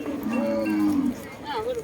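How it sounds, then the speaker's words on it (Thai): A water buffalo at a livestock market in Trakan Phuet Phon district, Ubon Ratchathani, gives a long, loud, close moo, then a shorter rising call, over steady market background noise. "มีควายเข้ามา"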